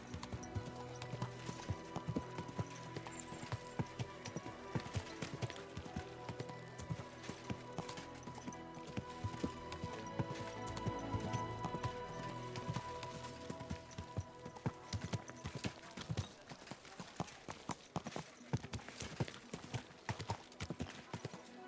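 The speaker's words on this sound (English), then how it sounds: "Easy, good horse." Horse hooves clip-clopping in the video game Kingdom Come: Deliverance 2, a steady rhythmic gait of hoofbeats, fairly close and quiet, with a brief whinny and game music underneath.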